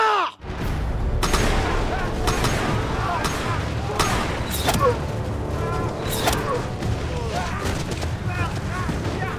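Rifle volley fire in a Korean historical battle drama reenacting the 1920 Battle of Cheongsan-ri ambush, with repeated sharp gunshot bursts crackling over a dense, continuous roar of battle noise and shouting voices.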